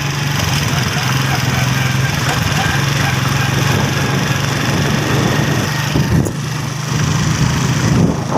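A motor engine runs steadily throughout, a close, even drone with a constant low hum and no change in pace, amid windy outdoor noise during the strong habagat monsoon.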